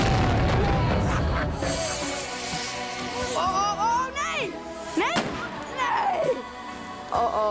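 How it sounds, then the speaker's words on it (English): Firework bombs going off in the Netherlands, a dense volley of booming bangs and crackles with whistling and screeching rockets rising and falling, loud and continuous, with voices mixed in. "they're setting off bombs?"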